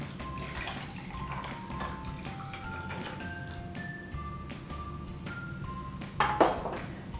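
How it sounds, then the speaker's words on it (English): A shaken Salty Dog cocktail is poured from a shaker over ice in a glass, giving a brief splashing pour near the end over steady background music. "We're going to pour it right over our ice."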